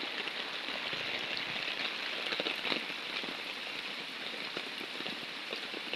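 Heavy morning rain from a low-pressure system pours steadily onto surfaces, a dense, even hiss with scattered nearby drips and patters, continuous throughout and unaccompanied by voices.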